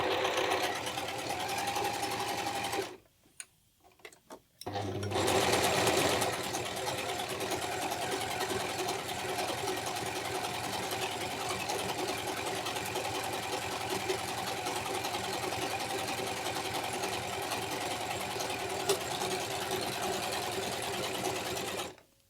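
A Singer S010L overlock machine sews a four-thread seam with the differential set to one, running as a steady close hum. It pauses briefly near the start, then runs on at a constant pace for a long stretch.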